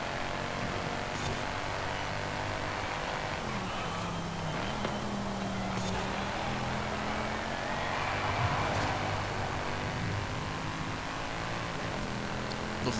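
Naturally aspirated Mercedes-Benz car engine in Forza Horizon 5 racing, a steady sustained drone with shifting harmonic tones throughout, close and continuous without talk.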